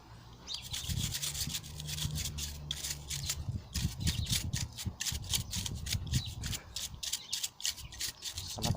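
A very dusty fan inside a desktop ATX-450 PC power supply being rubbed clean, giving steady close scratchy brushing strokes in quick repeated bursts that run throughout, with no talking.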